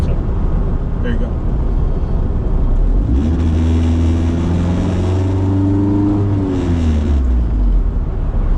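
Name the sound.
Honda-powered Mini Clubman Estate car engine while driving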